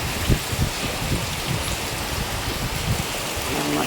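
Heavy rain pouring steadily on a waterlogged area where water has pooled, a dense continuous hiss with scattered drops and splashes, loud and close throughout.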